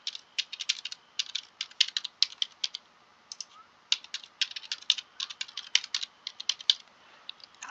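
A password being typed on a computer keyboard: close, crisp clusters of key clicks in quick irregular bursts with short pauses between, alone in a quiet room.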